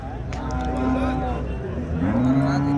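Punganur cows low at a cattle and bull market, drawn-out moos rising close by over a busy hum of voices and crowd.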